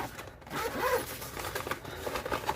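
A Hot Logic food warmer bag being zipped shut, giving a short, close rasping zip over soft fabric crinkling and rustle, with no talking.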